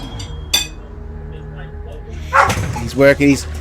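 A small dog barks in a few quick, sharp bursts close to the mic, mixed with someone talking and a faint clink in a quiet room.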